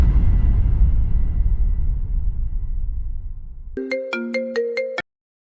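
Mobile phone ringtone chiming in a quick run of bright, evenly spaced electronic tones after a stretch of low background noise, then cutting off abruptly.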